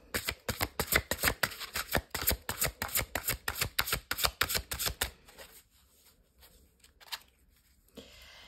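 Tarot cards are shuffled for a reading, with rapid rhythmic riffling bursts for about five seconds, then a few quieter, sparse card handling sounds. The sound is close and there is no voice.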